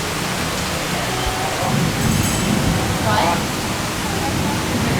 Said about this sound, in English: So the rain started again.